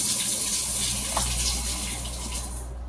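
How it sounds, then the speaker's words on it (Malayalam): Water is poured into a bowl of arrowroot powder for a face scrub, a loud, steady close-up pour running without pause. "ഇതിനകത്ത് കുറച്ച് വെള്ളം ഒഴിച്ചിട്ട് നമുക്ക് ഫേസ് സ്ക്രബ് ചെയ്യാം"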